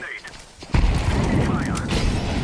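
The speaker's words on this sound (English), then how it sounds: "I'm throwing a grenade." A grenade blast in a video game lands as a loud, low boom that rolls on into a rumbling tail, with a voice talking just before and over it.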